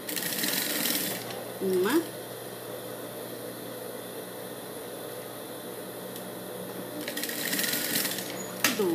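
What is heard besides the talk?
sewing machine stitching a flower onto a dress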